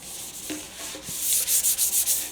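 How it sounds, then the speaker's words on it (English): Paint being sanded off a Yamaha Virago 250 motorcycle part down to bare metal: close abrasive rubbing that turns into quick, rhythmic back-and-forth strokes, with no one talking. "so I'm just rubbing and rubbing and rubbing"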